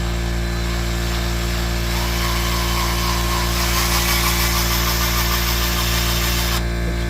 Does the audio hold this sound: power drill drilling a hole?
yes